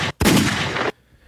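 A single loud, close gunshot sound effect cracks out after a brief pause, with a burst that rings for most of a second before cutting to near silence.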